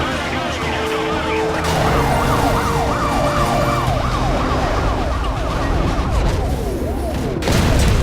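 Police sirens wail in a highway chase in Need For Speed Most Wanted, several overlapping up-and-down sweeps sounding loud and close over steady engine and road roar.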